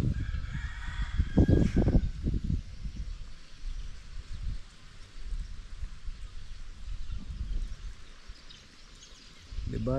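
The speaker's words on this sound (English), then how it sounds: "The birds, they are singing." Chickens and a rooster call close by near a fishpond, with a loud burst of crowing and clucking early on, then softer scattered fowl sounds over steady outdoor background.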